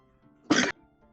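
A single short sneeze bursts out over a quiet background during a tabletop game session, brief and fairly close.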